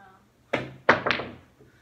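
Three heavy thuds as a loose pocket on a pool table is banged into place, the first solid knock followed by two quick close blows, loud and near in a quiet room.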